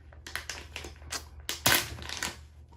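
Packaging of a Seagate portable 2TB external hard drive is torn and crinkled open in a series of close, sharp crackling rips, building to one louder tear before settling.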